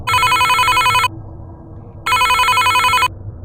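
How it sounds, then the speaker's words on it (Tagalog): Cellphone ringtone used as a sound effect in a Tagalog horror story, two loud electronic ringing bursts about a second each, separated by a short pause over a low background rumble. "Nagulat ang dalawa nang may tumutunog na cellphone sa loob ng storage room"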